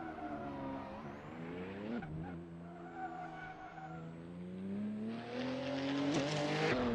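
A Ford race car in the Assetto Corsa racing game drives the Eboladrome track, its engine a steady, high-pitched whine that dips and climbs through gear changes, with tire squeal building near the end.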